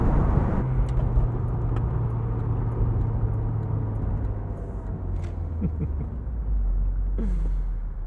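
A 1996 BMW Z3 1.9 roadster with a 5-speed manual drives along, its engine a steady low hum with road rumble that dips and then swells again near the end.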